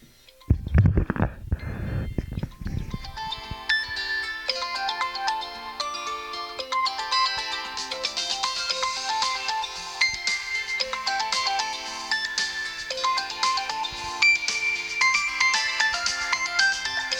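A ringtone on an iQOO Z9s 5G phone plays alone, a bright, steady electronic melody of tinkling chime-like notes that runs continuously after a brief low rumble at the start.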